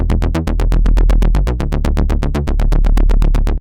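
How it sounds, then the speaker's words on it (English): A synthesized pluck bass for electronic music plays alone in a fast, even run of short, punchy, loud notes with sharp attacks and quick decays in a consistent repeating pattern. "The next type of primarily supporting bass element that I want to talk about is the pluck bass"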